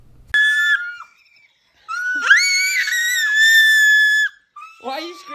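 A child lets out long, piercing high-pitched screams, very loud and close, with a short break between them and a bit of voice after.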